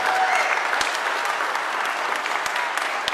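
Lively audience applause at a Tuskegee Airmen event, a dense, steady clatter of many hands clapping nearby, with a few sharper claps standing out and faint voices mixed in.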